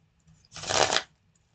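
Tarot cards riffled in one quick, dense shuffle lasting about half a second, close and fairly loud against a quiet room hum.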